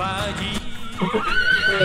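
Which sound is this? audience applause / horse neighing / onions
horse neighing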